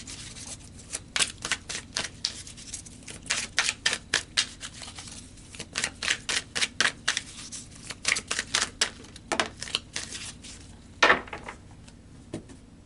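Tarot cards shuffled and flicked by hand, a long run of quick papery riffles and soft slaps in uneven bursts, close and fairly quiet with no talking.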